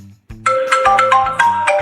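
A phone rings, triggered by the find-phone feature of a HainoTeko 3 smartwatch: a loud, bright electronic ringtone of repeated melodic beeps that starts after a short pause and keeps going, heard alone.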